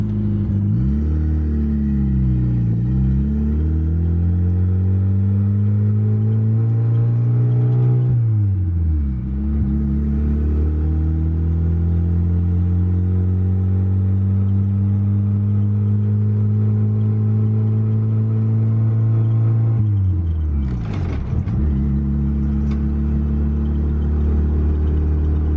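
A Z6 Turbo car engine in regular driving, a loud, steady droning hum that rises and falls in pitch with gear changes, heard from inside the car with no talking.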